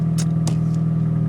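A Chrysler PT Cruiser engine runs loud with no exhaust fitted, giving a steady, close, low droning hum broken by a few short sharp clicks or taps, with no speech.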